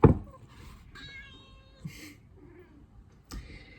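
A cat meows a few times, short cries spaced across a few seconds with a sharp knock at the start, close by and moderately loud in a quiet room.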